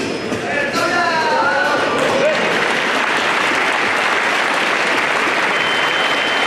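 Loud, sustained applause from a large crowd at a powerlifting world championship, steady clapping filling the whole stretch with some cheering mixed in at the start.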